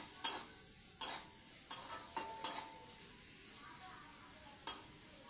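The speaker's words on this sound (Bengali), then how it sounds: "পেঁয়াজটা ভেজে নেব" Chopped onion sizzles steadily in a hot pan while a utensil stirs it, producing a string of sharp scraping clicks against the pan over the constant frying hiss.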